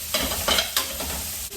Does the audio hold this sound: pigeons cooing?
no